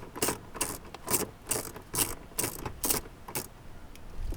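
Ratchet wrench undoing a 7mm bolt behind an interior panel of a 2014-2019 Cadillac CTS, about nine quick ratcheting bursts in a steady rhythm, close-up with no talking.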